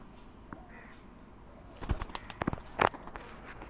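Teddy Rampuri pigeons, a quiet stretch followed by a few soft coos and brief bursts of wing flapping and shuffling, faint and close.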